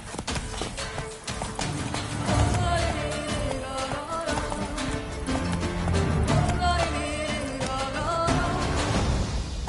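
A horse gallops in The Witcher 3: Blood and Wine, its rapid, rhythmic hoofbeats running steadily throughout over a layer of game music.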